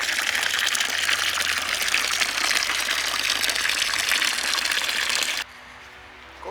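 The Cascata del Catafurco waterfall in the Nebrodi mountains roars as a loud, steady, full-bodied rush with no talk, then drops abruptly to a much quieter background hiss near the end.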